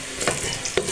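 Onions and tomatoes frying in a pot, giving a short burst of close sizzling with a couple of stirring scrapes over a steady hiss, no voices.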